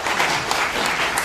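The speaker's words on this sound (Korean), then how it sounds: "박수 부탁드릴게요." Applause from an audience at a literature concert honouring a poet, a dense, steady clatter of many hands clapping indoors for just over a second.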